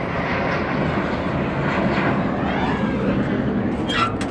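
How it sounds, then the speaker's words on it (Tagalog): Philippine Airlines airplane passing overhead, a loud steady engine roar that holds throughout with a slow shift in tone as it crosses, plus faint background sounds near the end. "Ayan, may aeroplano na namang dumadaan. Ayan, aeroplano. Philippine Airlines."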